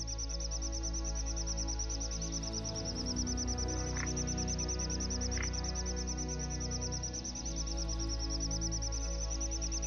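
Migrating birds call steadily at the Caspian Sea over a low, continuous background hum, with a couple of brief sharper chirps standing out.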